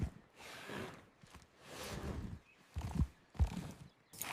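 A horse walks slowly with soft, uneven hoof clops and rustling, a few heavier thuds near the end.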